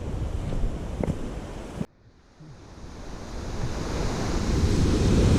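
Stream water rushing steadily near the Rainbow Falls trail, a dense continuous roar with wind buffeting the microphone, briefly dipping before swelling louder.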